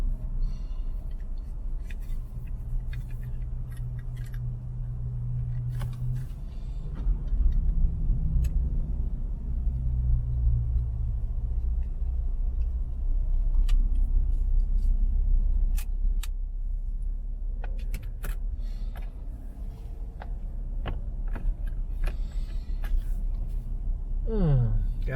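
Interior of a car creeping through heavy traffic on the way to Fox Trace Community, with steady low engine and road rumble throughout, a few faint clicks and ticks, and occasional soft talking inside the cabin.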